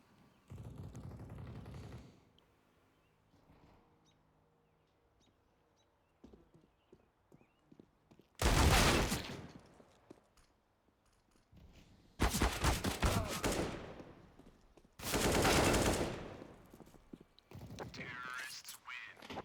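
Pistol gunfire during a professional Counter-Strike match on the Inferno map, heard as several loud, sharp bursts of shots separated by quieter stretches of in-game footsteps and movement.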